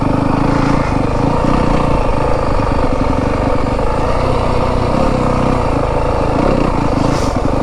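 A 2025 Yamaha WR 250F dirt bike engine runs loud and close throughout while riding, a continuous rough four-stroke drone with small throttle changes and no break.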